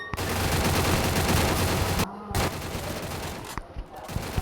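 Rapid video game gunfire crackles in dense, loud bursts through the first two seconds, then returns in shorter volleys with brief gaps and sharp single shots near the end.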